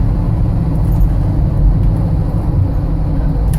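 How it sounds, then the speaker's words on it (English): A 1979 Chevrolet K5 Jimmy truck engine running with a deep, throaty, steady rumble, loud and close, with no talk over it. "I love the way this truck sounds."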